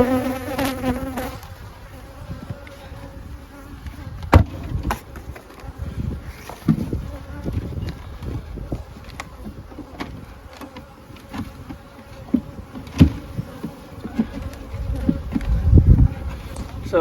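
Honeybees swarm and buzz around beehives and a newly installed nuc, a dense, continuous drone close by with individual bees zipping past now and then.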